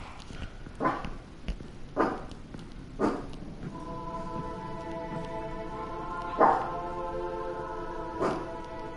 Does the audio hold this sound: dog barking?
yes